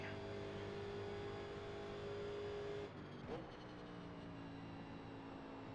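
NASCAR Legends car engine at Pocono in iRacing, a steady droning roar at constant throttle that drops abruptly partway through, then continues lower with a brief swell.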